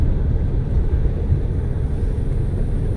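Helicopter circling over a wildfire on a hillside above houses, a continuous low rotor and engine rumble, steady and fairly loud with no voices.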